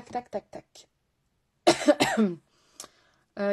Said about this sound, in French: il fallait que tu parles de ma toux pour que j'ai envie de tousser